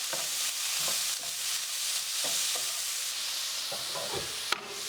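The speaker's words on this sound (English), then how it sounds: "And give it a really good stir" A pan of pea and asparagus pasta stirred on the stove, soft sizzling hiss with irregular scraping and light clicks of the utensil, close and moderately quiet, no talking.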